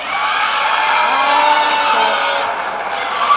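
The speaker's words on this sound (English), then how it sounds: "And a big round of applause for our senior, Kareli Nunez." Steady applause and cheering fill a school board meeting room as a crowd honors a senior student, a dense, loud wash of clapping and voices holding level throughout with a few whoops near the end.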